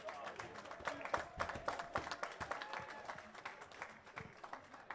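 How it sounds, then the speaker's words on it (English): Crowd applause at an amateur fight night in Manchester, a fairly quiet, distant spread of clapping with voices and cheering mixed in, rising and falling over five seconds. "Everyone, round of applause for Ethan"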